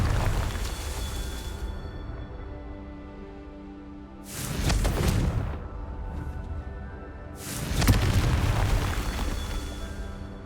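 Two big Confringo spell explosions in Hogwarts Legacy on PC, each a loud broadband boom with a rumbling tail a few seconds apart, over a quieter game ambience.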